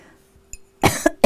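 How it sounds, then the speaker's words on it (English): A single big, loud human cough bursts out close by, in two or three harsh explosive pulses after a faint short sound, with no talking. "That was a big cough."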